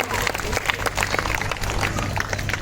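An audience at a school event claps to welcome a guest, a steady patter of many hands with murmuring voices mixed in throughout.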